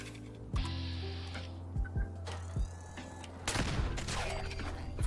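Pistol shots from a Gauss pistol in Fallout 76, a handful of sharp separate reports spread irregularly over several seconds against a steady humming game ambience, with louder clattering activity near the end.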